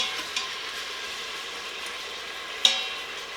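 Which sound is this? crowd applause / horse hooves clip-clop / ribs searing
ribs searing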